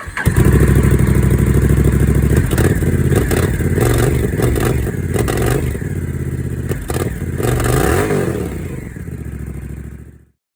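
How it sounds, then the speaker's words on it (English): A Rebel 1100T motorcycle with a Coffman's Thunder exhaust cranks and fires up, then revs repeatedly in loud, throaty bursts before cutting off abruptly. "now that I have the exhaust installed, let's start her up."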